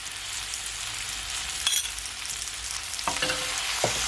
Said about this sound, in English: Just gonna allow it to saute for at least 1 minute.